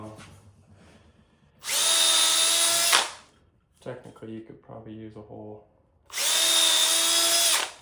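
Power drill pre-drilling holes in scrap wood during a kitchen cabinet install, two loud close bursts of steady whine, each lasting about a second, with a person talking between them.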